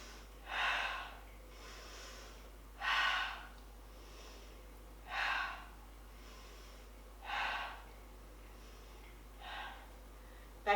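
Slow, deep breaths during a beginner's yoga back stretch come as five soft, evenly spaced breathy swells, close and quiet, each fading slightly, with no talking.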